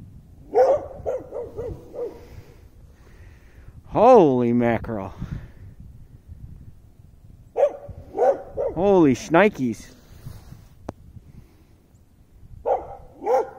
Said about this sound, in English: Look at that doggy over there.